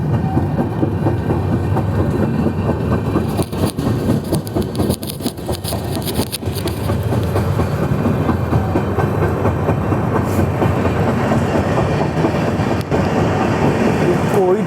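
A passenger train rolls toward Sabarmati station, heard from aboard another train as a loud, steady rumble with rhythmic wheel clatter throughout, and a voice faintly present.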